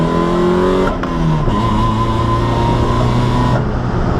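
A Toyota AE86 drift car's engine revs hard through a first-gear launch, loud and close, pitch climbing steeply, then dropping with a gear change and holding a steady high drone before easing off.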